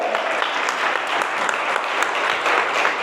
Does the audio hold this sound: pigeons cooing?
no